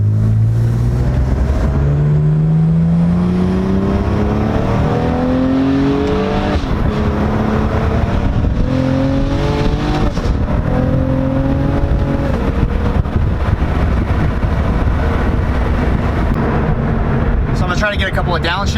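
Cadillac CT4-V Blackwing with cat-less downpipes and exhaust valves open, heard from inside with windows down: a loud, continuous engine drone that rises and falls through downshifts and revs, with burbling exhaust throughout.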